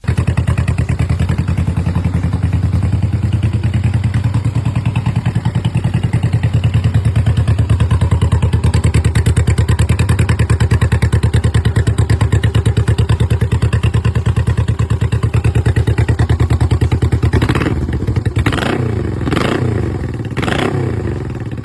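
A vintage Honda motorcycle engine runs close by at a steady, loud, pulsing idle for about twenty seconds, with a few sharp blips of throttle near the end.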